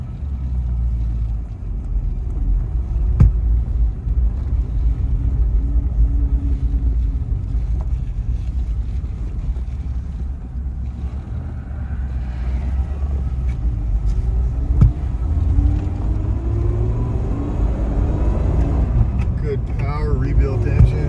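A rebuilt engine in a 1947 Cadillac Derham formal sedan with a three-speed synchromesh transmission idles steadily. The low rumble stays close and even for about twenty seconds, with some wind noise over it.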